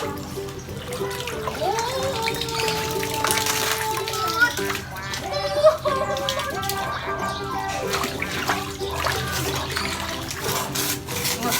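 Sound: water being pumped into a pool

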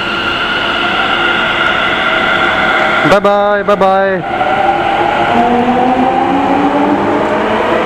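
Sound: metro train departing from station

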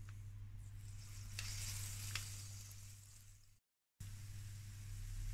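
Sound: buñuelo dough frying in hot oil

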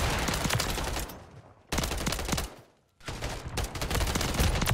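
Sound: gunfire in Call of Duty MW3 video game

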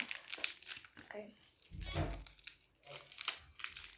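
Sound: opening crinkly wrapper of English sweets

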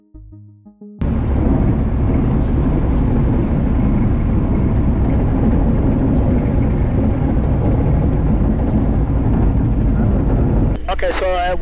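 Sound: experimental light airplane landing on runway

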